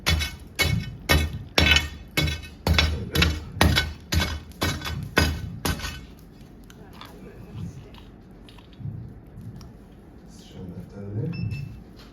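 Cooled crust on molten lava at a lava show in Reykjavik cracked open by a tool: about a dozen sharp, loud crunching strikes in a steady rhythm, then quieter crackling and low rumble.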